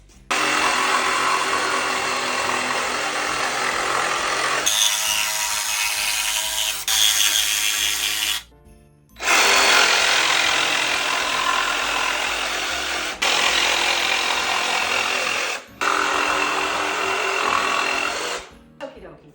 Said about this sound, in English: next step is taking my jigsaw and cutting this out